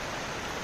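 Steady rain falls outside, a continuous even hiss of dense drops with no break or change in level and no voices.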